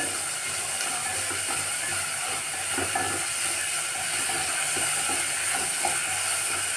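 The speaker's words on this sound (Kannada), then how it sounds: "ಈರುಳ್ಳಿ ಹಸಿ ವಾಸನೆ ಹೋಗೋ ಥರ ಚೆನ್ನಾಗಿ ಫ್ರೈ ಮಾಡ್ಕೊಳ್ಳಿ" Onions frying in oil in a pan for a country-style egg chicken curry, giving a steady sizzling hiss throughout with faint scattered crackles and pops, no talking.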